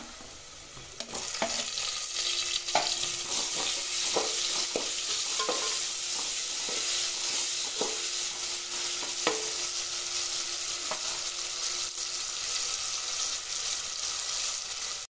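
Tomatoes are added to a pan for Maharashtrian matki bhaat and fry in a steady close sizzle, with repeated spoon scrapes and taps against the pan over about fifteen seconds.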